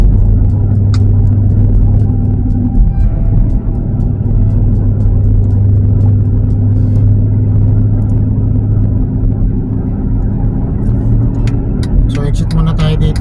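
Heavy road traffic near an airport makes a continuous loud drone of car engines and rumbling tyres, steady throughout, with a voice talking over it.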